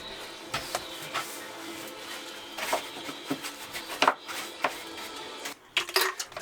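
Stainless steel bolts taken from a wooden yacht's chain plates clink and rattle in a tub, with irregular close metallic taps and a louder jumble of clatter near the end.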